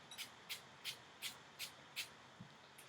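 Six or seven short, crisp hissing sprays of water from a pump bottle onto short natural hair, in a steady rhythm, close by, followed by a fainter final spritz.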